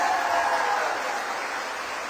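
An audience at an inauguration ceremony in Noida applauds, a dense, loud burst of many hands clapping together that fades slightly toward the end.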